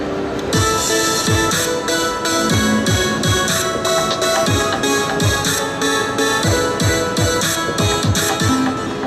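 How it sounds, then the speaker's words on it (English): Dense electronic pattern from the XILS3 virtual synthesizer with rapid rhythmic pulses and percussive hits, loud and continuous throughout. "which is a nice virtual synth"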